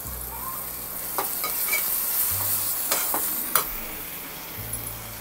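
Raw mango pieces stirred and frying in a pan with dry prawns, giving a steady close sizzle with a few sharp clinks and scrapes from the spoon. No one speaks over it.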